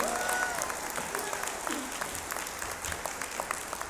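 A law school hooding ceremony audience at Florida A&M claps in a steady, moderately soft wash of applause that carries on throughout with faint crowd murmur behind it.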